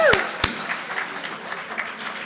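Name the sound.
audience applause for an awardee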